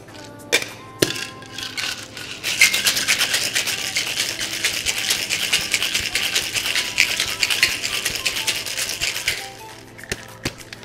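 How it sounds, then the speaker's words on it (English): Cocktail shaker filled with ice and a lychee lemongrass sour, shaken hard in a reverse dry shake, giving a dense, rapid rattle of ice against metal for about seven seconds, framed by a few clinks before and after. "So it's going to add ice into our shaker and do a reverse dry shake."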